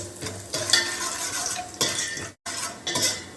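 Dry fruits fry in ghee in a pan for rava kesari, with a steady sizzle broken by bursts of stirring and utensil scrapes and a brief gap partway through.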